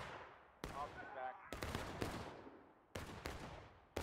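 Musket fire in the Civil War video game War of Rights, sounding as sharp irregular reports near and far with rumbling echo tails.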